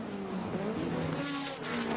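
Nissan Skyline and BMW M3 touring cars racing in a close pack toward the top of BP Cutting at Bathurst in 1987, with engine drones rising and overlapping, loud and continuous.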